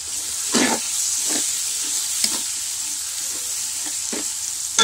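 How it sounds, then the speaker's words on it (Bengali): Onions and green chilies frying in a pan for chicken roast give a steady hiss, broken by a few louder scraping stirs spaced through the clip. No one speaks. "পেঁয়াজ কাঁচামরিচ দিয়ে দিয়েছি।"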